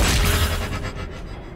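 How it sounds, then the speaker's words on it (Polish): A tracking shot attack in the dark fantasy game Darkest Dungeon lands as a heavy booming impact with a rumbling tail that fades over about a second and a half, loud and alone with no voices. "nakażemy MC Polakowi oddać strzał śledzący"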